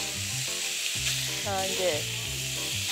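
Pork sizzles loudly as it fries in an oiled pan for a stir-fry, a steady close crackle that continues under brief speech.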